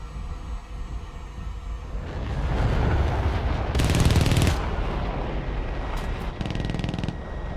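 Aircraft cannon fire, a loud rapid burst of automatic shots building into a dense roaring volley around the middle, followed by shorter staccato bursts trailing off.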